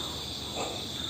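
Crickets near a bamboo thicket chirp in a continuous, high, shrill trill, faint and steady, with no voices.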